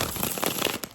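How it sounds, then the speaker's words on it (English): A tarot deck with a blue and black crossed-pattern back being rainbow shuffled by hand, giving a close, continuous riffling crackle of cards sliding and flicking, with a sharper burst near the end. "The perfect size for rainbow shuffling."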